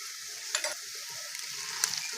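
Potato, beetroot and carrot stirred in a pan, a steady faint sizzle with a few soft scraping knocks of the spoon; no voices.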